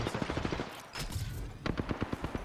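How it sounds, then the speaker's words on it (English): Automatic gunfire in Apex Legends, shot while the player is airborne, comes as quick rhythmic bursts of rapid shots broken by a short gap, fairly near and clear. "I love the accuracy of shooting in the air."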